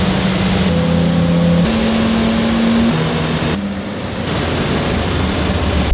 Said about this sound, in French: Ok, moteur démarré, on descend en D et après on se met en manuel.